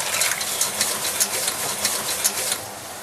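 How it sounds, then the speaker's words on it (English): Mussels are tipped into a pan of melted butter, onions, garlic and parsley, raising a steady, close sizzle with small clicking shell clatters scattered through it. "Then into my other pan here, where I've got just onions, garlic and parsley and melted butter, we tip in the mussels."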